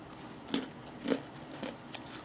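Crispy chocolate chip bread is bitten and chewed close up, with four or five quiet crunchy bites spaced about half a second apart over soft mouth sounds.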